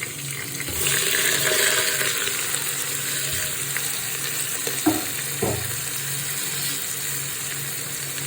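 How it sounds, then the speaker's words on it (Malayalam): Ginger garlic paste and onion fry in a pan for a chicken curry, a broad, steady hiss rising loud after the first second, with a couple of soft knocks midway. "ഇഞ്ചി വെളുത്തുള്ളി പേസ്റ്റ് ഇട്ട് കൊടുക്കാം. നമുക്ക് സവാളയും കൂടെ ഇട്ട് കൊടുക്കാം."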